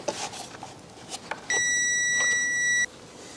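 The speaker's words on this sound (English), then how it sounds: "I've got this set to continuity, so everything should make a sound." A multimeter set to continuity gives one sustained electronic beep lasting over a second while battery box wiring is probed, with faint handling clicks and taps before it.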